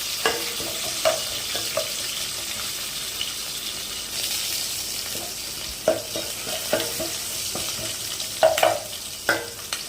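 Onion, green chili, curry leaves and garlic sauté in a pan for a fish curry, giving a steady broad sizzle with scattered scraping stir clicks from a utensil, close and fairly quiet, without talk.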